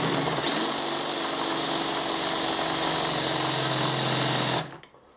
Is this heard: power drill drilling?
yes